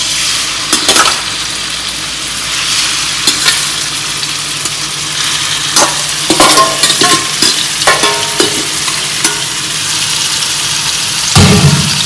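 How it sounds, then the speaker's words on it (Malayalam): Prawns fry in oil in a pan for a Kerala-style pickle, making a loud, dense sizzle close by, with scattered scraping and clattering bursts as they are stirred. "ഫസ്റ്റ് തന്നെ ഈ ചെമ്മീൻ നമ്മൾ വറുക്കാൻ പോവുകയാണ്."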